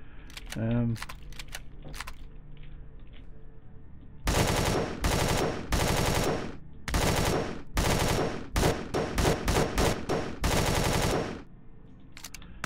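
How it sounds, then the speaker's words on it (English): Enemy gunfire in the space survival game Empyrion, loud rapid bursts of automatic shots in several uneven volleys, preceded by a brief voice and quieter background tones. "Oh, something's shooting at me. Yep, he's shooting at me."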